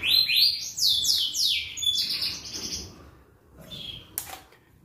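F1 YS star blue canaries chirp in a quick run of high, bright trills and tweets, loud and close at first, then fading into softer calls with a brief flutter near the end.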